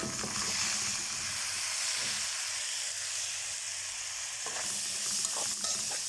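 Washed, drained rice being stirred with vermicelli in a pan for Egyptian koshari, a steady close sizzling hiss with scraping stir sounds throughout, no talking.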